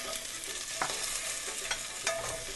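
Black pepper chicken frying in a pan, stirred with a utensil: a steady soft sizzle with a few scraping stirs at quiet, close range.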